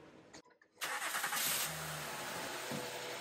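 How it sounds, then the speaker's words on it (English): A Honda car engine cranks and catches after a power steering pump replacement, a sudden loud start rising out of near silence and settling into a steady idle. "We're going to start the engine and give it a test."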